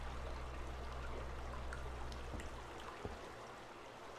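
Steady running water in the Escape Memoirs video game, a constant broadband wash with a few faint clicks, fairly quiet and alone with no talk over it.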